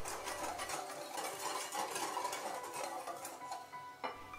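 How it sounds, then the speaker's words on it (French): Whisk clattering steadily against a bowl while sugar and starch are beaten together to remove lumps for a vegan cherry clafoutis, a faint, continuous scraping rhythm with no speech. "je fouette bien les deux pour enlever les grumeaux"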